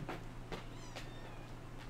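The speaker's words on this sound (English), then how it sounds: "this the cat that's here with me right now" A four-month-old house cat meows in short, clear cries over a steady low hum, with several calls close together across two seconds and no talk.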